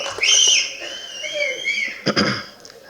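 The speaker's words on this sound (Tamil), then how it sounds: "இவ்வளோ பேருக்கு கைத்தட்டி விசில் அடித்து கொண்டாடுறீங்க" Shrill, sliding whistles ring out over a murmuring crowd at a film event, followed by a short burst of clapping and cheering.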